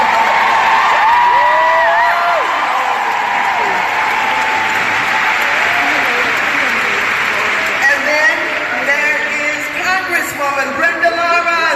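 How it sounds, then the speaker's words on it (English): A large crowd at the Women's Convention 2017 gives a loud, sustained round of applause for Senator Debbie Stabenow, with cheers, whoops and shouting voices rising over the constant roar of clapping. "I want you to give Senator Debbie Stabenow a big round of applause."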